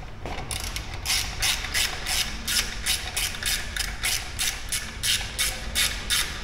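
Rapid repeated clicking of a ratchet wrench in steady bursts, close and crisp, as bolts are tightened stroke after stroke on a Peugeot engine.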